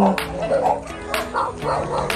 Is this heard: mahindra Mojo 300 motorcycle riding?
no